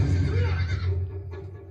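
A horse neighs in a Game of Thrones episode, a loud, close whinny lasting over a second, with a steady low rumble of background score underneath.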